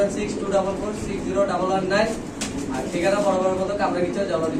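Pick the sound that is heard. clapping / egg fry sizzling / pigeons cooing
pigeons cooing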